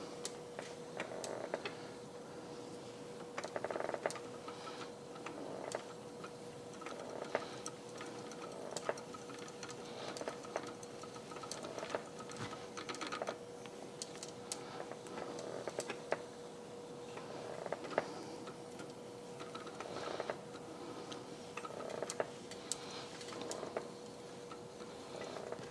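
A treadle spinning wheel spins flax with a soft, steady rhythmic clicking and ticking. A faint, continuous hum runs beneath the gentle repeated taps, close and quiet.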